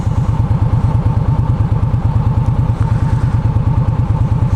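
An Indian Scout motorcycle engine runs steadily nearby, with a loud, rhythmic low-pitched thumping.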